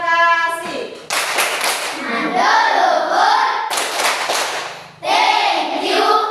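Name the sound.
pupils' thank-you clapping for a group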